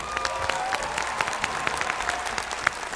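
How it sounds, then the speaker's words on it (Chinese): A studio audience on a cooking show applauds two chefs, dense steady clapping from a crowd that carries on through the whole moment without pause. "来，我们用掌声感谢2位大厨"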